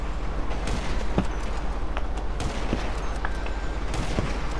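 Gunfire in the video game GTA V, a dense stream of sharp, close shots scattered over a constant noisy game background, with no one speaking.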